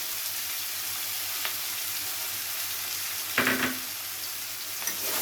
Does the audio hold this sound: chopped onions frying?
yes